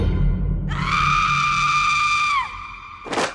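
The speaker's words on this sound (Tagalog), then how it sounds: "Biglang sumigaw si nanay" A woman's sudden, loud, sustained scream, held steady for nearly two seconds before breaking off, followed by a short harsh burst of noise, with no talk.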